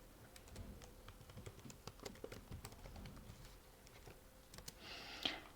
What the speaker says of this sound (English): Here I will type here hello world.